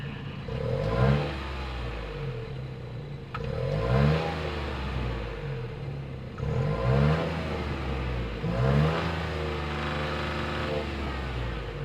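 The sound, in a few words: turbocharged 3-cylinder car engine revving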